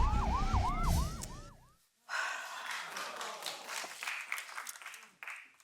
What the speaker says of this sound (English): We need the ambulance down there right now